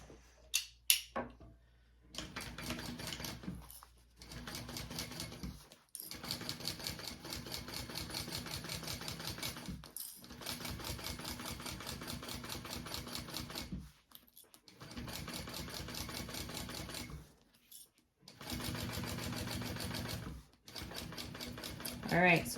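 A sewing machine stitches a tote bag seam in several bursts of rapid, rattling needle strokes separated by short pauses, close and moderately quiet.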